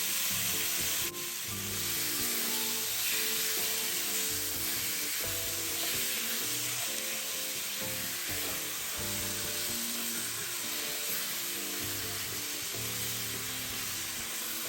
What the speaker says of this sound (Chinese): 在排骨翻炒过程